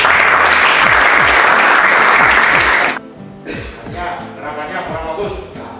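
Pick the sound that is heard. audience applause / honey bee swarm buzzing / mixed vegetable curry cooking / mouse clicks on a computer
audience applause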